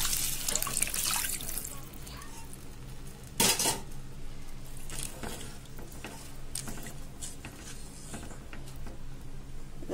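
Tamarind water is poured into a cooking pot of karapodi milagu kuzhambu, a spicy pepper curry, with close splashing and pouring alongside clinks and scrapes of metal utensils, including one sharp knock partway through.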